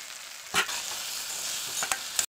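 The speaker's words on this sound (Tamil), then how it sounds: "இதோட சேர்த்து வதங்கும்போது நம்ம பொடி பண்ணி வச்சுருக்க இந்த மசாலாவையும் இதில் சேர்த்து நல்லா வதக்கிக்கலாம்" Onion, tomato, ginger garlic paste and ground masala sautéed for mushroom gravy, a soft steady sizzle with several scraping stirs of a spoon in the pan, close and alone.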